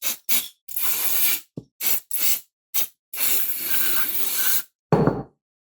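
Aerosol parts cleaner sprays onto Harley-Davidson Softail engine parts in a string of sharp hissing bursts, some short puffs and some long sustained blasts, close and loud with silent gaps between them.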